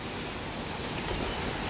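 Heavy rain pours steadily onto a Coleman Dark Room tent, a dense, even hiss of drumming drops close overhead with no voices.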